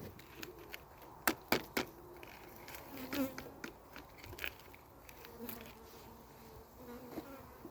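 Honey bees hum and buzz continuously around an open hive while frames are handled, with a few sharp clicks and knocks of wooden frames breaking through the steady insect drone outdoors.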